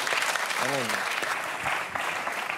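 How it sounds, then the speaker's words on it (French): Studio audience applause on a French television talk show, steady enthusiastic clapping throughout, with a voice briefly calling out over it early on. "On peut l'applaudir très"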